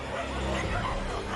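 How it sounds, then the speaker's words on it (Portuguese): Many dogs bark and yip together outside near a house, a dense, continuous chorus of overlapping barks, yelps and whimpers at moderate distance, with some murmured voices mixed in. "Gilmar ouviu o latido de muitos cachorros perto da casa dele"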